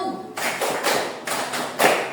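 A class claps together in a rhythmic pattern game, a few sharp, loud claps in quick succession with short gaps between them.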